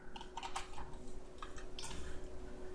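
Quick, close key taps on a computer keyboard while code is entered, a light irregular patter of clicks running for a few seconds against a faint steady hum, no voices.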